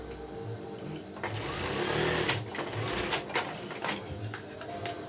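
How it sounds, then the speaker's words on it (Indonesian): A sewing machine stitches a pillowcase, its fast mechanical whir starting up and running steadily with small bumps and clicks as the fabric is fed through. "Kemudian di sini kita akan menjahitnya."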